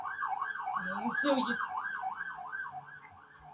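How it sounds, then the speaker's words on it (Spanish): An ambulance siren wails outside in a regular rising-and-falling cycle, clear and moderately loud, with a brief spoken voice over it. "permiten que pase la ambulancia."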